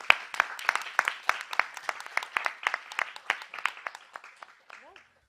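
Audience applause for forum panelists at an OECD Forum session, a dense wash of many hands clapping at moderate level that thins and fades out near the end, with a faint voice briefly audible as it dies away.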